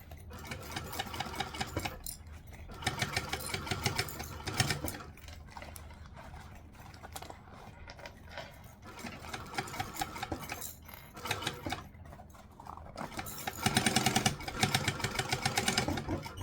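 A sewing machine stitches a small fabric bag in repeated bursts of rapid mechanical chatter, close and loud, separated by short pauses and quieter handling sounds.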